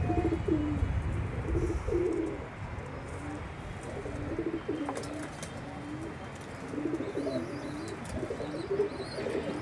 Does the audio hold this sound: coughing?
no